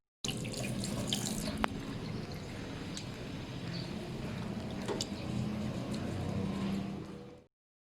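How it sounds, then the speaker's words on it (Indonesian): Hands are washed under a running tap at a school in Balikpapan, with a steady stream of water splashing for several seconds, a faint vehicle hum in the background, and a brief clink near the start. "mari kita cuci tangan dulu."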